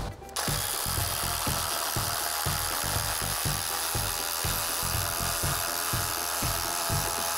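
A Flex FX1371A cordless impact driver drives a fastener into wood, a loud, close, steady rapid hammering rattle with regular impact pulses running continuously after a short start.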